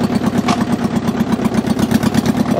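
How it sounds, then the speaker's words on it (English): Mitsubishi diesel tractor engine idling in third gear, low range, a close, steady rhythmic chugging with even pulses and no talk. "It doesn't even stall at idle in third gear."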